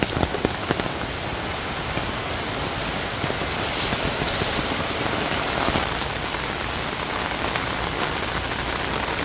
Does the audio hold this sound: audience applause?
no